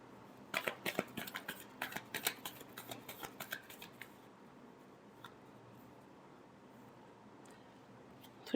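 Tarot cards being shuffled by hand, a fast run of crisp papery riffles and flicks for about four seconds, then near silence with faint handling noise.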